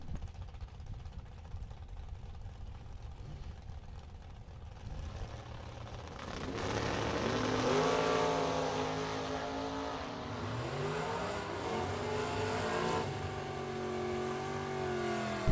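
Drag racing cars, including a Corvette Roadster, launch at a bracket nationals event, with engines idling and then revving hard as cars pull away in a loud, rising roar, heard from trackside.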